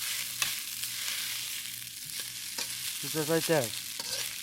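Salmon fried rice fries in a pan with a continuous close sizzle, while a spatula scrapes and stirs in several soft strokes; a brief spoken phrase rises over it near the end.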